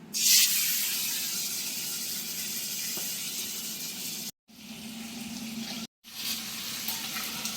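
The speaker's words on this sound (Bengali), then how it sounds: "মাছগুলো এবার ভেজে নেওয়া হবে নুন হলুদ দিয়ে মাখিয়ে রাখা হয়েছে মাছগুলো" Fish rubbed with salt and turmeric fries in hot oil. A continuous bright sizzling hiss runs steadily, cut by two brief silent gaps.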